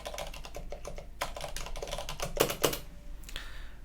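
Computer keyboard keys clack in a quick, uneven run as a password is typed, close and crisp, with a few harder strokes near the end and no voices.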